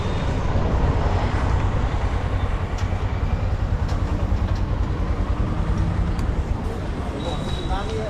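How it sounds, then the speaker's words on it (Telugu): Busy railway station ambience at Kacheguda, a steady wash of crowd murmur, rumbling train and platform noise with a faint chime, continuous and fairly loud, with voices talking throughout. "కాచిగూడ రైల్వే స్టేషన్కి వచ్చేసాము"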